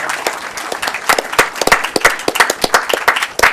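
An audience at a Franklin Township, New Jersey council meeting applauds the Township Youth Council, with many distinct hand claps mixed into a lively, continuous round of applause.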